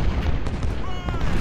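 Cannon fire in the Ultimate General: Civil War strategy game, a dense low boom rumbling steadily through the short stretch, with no clear separate shots.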